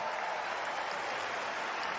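A tennis crowd applauding at a 2025 London final, a dense steady wash of clapping from a large audience.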